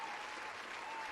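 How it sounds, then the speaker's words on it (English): Applause from a small group celebrating during a casual anime-themed live chat, faint and steady across the whole moment with no clear breaks. "Let's give a round of applause to ourselves"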